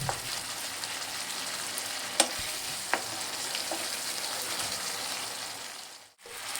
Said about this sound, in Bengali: তো এবার আমি একই সঙ্গে ভালো করে এটা কষিয়ে নেব।